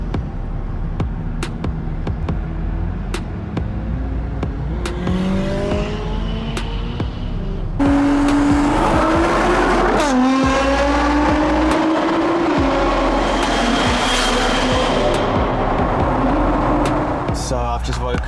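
Supercars tearing around Anglesey Circuit in Wales, engines revving and rising in pitch as they pass, loud and close with a denser roar in the second half; voices talk faintly underneath.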